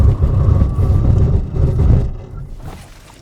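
An Audi RS5 Competition Plus accelerates hard on a test run, its engine a loud, close roar for about two seconds before fading quickly as the car pulls away.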